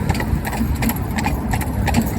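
A young Friesian horse trots, its hooves making a steady rhythmic clip-clop that runs close and clear under a low engine-like hum.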